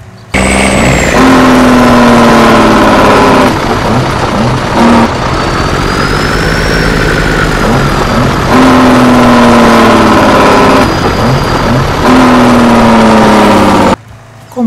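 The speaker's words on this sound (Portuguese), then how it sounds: "esse som de freio motor faz muita falta aqui no Brasil" A truck's engine brake in the Farming Simulator video game sounds as a loud, continuous mechanical drone with shifting pitch, dipping and rising as the braking eases and returns, with no voices.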